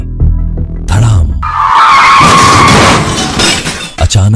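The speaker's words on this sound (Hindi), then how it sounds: "अचानक एक तेज रफ्तार ट्रक ने उसे जोरदार टक्कर मार दी" Speeding truck skids with a tire screech and then smashes with a crash into a person, a loud, sudden and dramatic dramatized impact.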